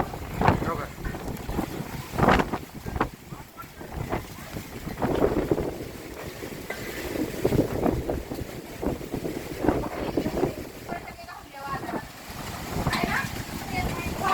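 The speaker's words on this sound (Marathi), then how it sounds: "चक्रीवादळासह पावसाला सुरुवात बारामतीमध्ये" Gusty cyclone wind in Baramati roars against the microphone with a wash of rain beneath, and people speak over it throughout.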